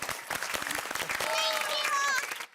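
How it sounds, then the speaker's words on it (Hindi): Residents of Gokuldham society clap for themselves at the close of a three-day fitness camp, a short patter of hands that blends into brighter tones before fading out. "जोरदार तालियां दीजिए अपने लिए।"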